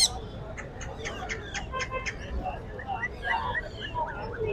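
A breeding pair of Pahadi parrots calls with sharp, repeated squawks and chatter, with many other birds around them in a busy Sunday bird market in Lalukhet.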